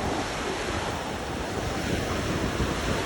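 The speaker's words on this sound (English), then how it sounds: "Because this is very, very windy." Strong, steady wind on Oahu, Hawaii roars across the microphone without letup, blending with the wash of surf.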